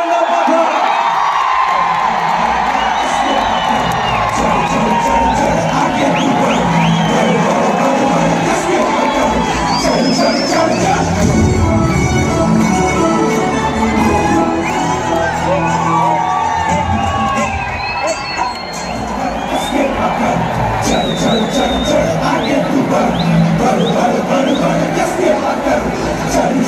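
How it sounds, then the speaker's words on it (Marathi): A large outdoor crowd at a Dahi Handi Govinda competition final roars, whoops and shouts continuously, with children's cries and scattered whistles in a dense, loud wall of cheering. "अजून आवाज आणि जोरदार टाळ्या."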